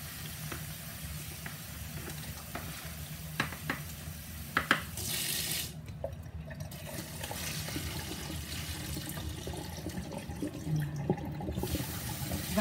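Rice being washed in water: a running tap splashes and trickles into a bowl, with scattered knocks and clinks and a couple of louder gushes, and no one speaks.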